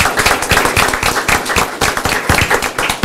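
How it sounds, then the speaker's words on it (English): A council meeting crowd gives a big round of applause for an academic decathlon team and coaches, the clapping dense and continuous with sharp individual claps standing out, close and loud throughout. "Let's give them a big round of applause"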